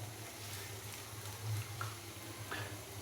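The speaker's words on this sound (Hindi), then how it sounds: "अभी मैं इसके अंदर पानी डालूँगा ग्रेवी के लिए।" Water poured into a pan of black pepper chicken to make gravy, a soft continuous splashing stream with a low background hum and a few faint clinks, close by and without talk.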